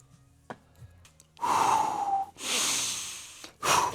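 A person wearing a nasal strip breathes through the nose in a quiet room, with a couple of faint sniffs followed by three loud, close, drawn-out inhales and exhales.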